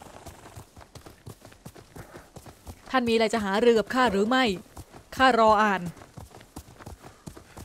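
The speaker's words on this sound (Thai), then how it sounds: "เราไปขี่ม้ากันท่านม้าใหม่ข้าชื่อคาเซคังเงะ" Horse hooves galloping in the video game Ghost of Tsushima, a steady rapid clip-clop running throughout at moderate volume, partly under two stretches of spoken dialogue.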